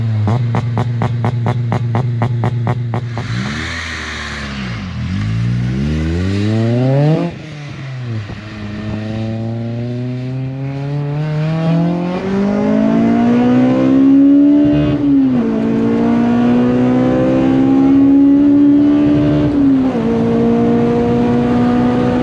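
A Honda Civic Type R EP3 with a naturally aspirated engine accelerates hard on a drive, revs climbing through the gears in repeated rising sweeps with short dips at each shift, loud and close from inside.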